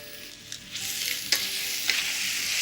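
Broccoli and peppers seasoned with salt and peperoncino sizzle loudly in a hot pan for an Italian-style chicken stir-fry, with a few quick scraping stir strokes cutting through the frying hiss.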